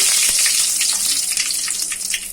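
Panch phoron spices crackle in hot oil while frying for Odia aloo chop, a steady dense sizzle with scattered pops, continuous and close throughout.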